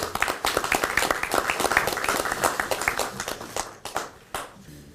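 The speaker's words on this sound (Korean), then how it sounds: "뜨겁게 박수로 환영해 주시기 바랍니다" An audience at a party election committee meeting applauds warmly to welcome youth candidates, with dense, sustained clapping that thins out and tapers near the end.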